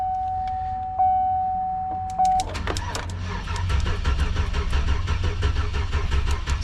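A 2004 Chevy Silverado pickup engine cranks without starting, a steady rhythmic churning from the starter that follows a short electronic tone and clicks, continuing loud and close to the end.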